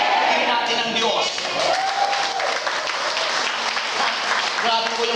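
A church congregation at a conference claps loudly and continuously, mixed with scattered cheers and voices calling out over the steady applause.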